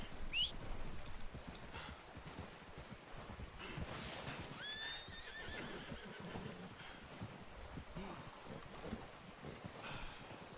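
A horse in Red Dead Redemption 2 gives a sharp whinny near the start, followed by soft clip-clopping hooves and further faint neighs over a low windy outdoor ambience.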